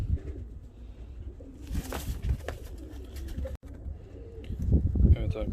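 Fancy and costume pigeons coo in soft, repeated low murmurs, with wing rustles and handling noises nearby and a voice speaking over part of it.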